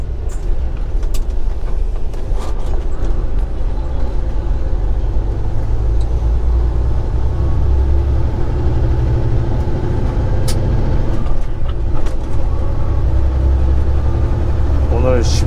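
A car driving along a narrow dirt road, with a steady low engine rumble and road noise throughout, fairly loud and close, with occasional knocks and rattles.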